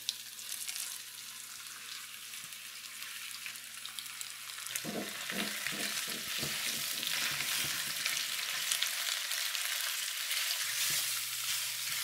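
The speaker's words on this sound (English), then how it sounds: "So we're gonna put the oil in it. You don't need to put too much, probably just two tablespoons. You put the pork belly in it." Pork belly hits hot oil in a pan and erupts into loud, crackling sizzling with bursts of spattering, settling into a steady fry over a low kitchen hum.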